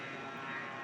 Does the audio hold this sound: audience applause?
no